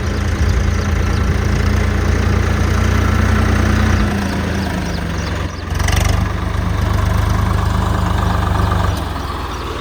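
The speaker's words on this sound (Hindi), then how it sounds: "और वो सामने आ गया हमारा ट्रैक्टर।" A Swaraj 855 FE tractor engine drones close by with a steady rumble, idling low and continuous with a brief dip midway before it picks back up.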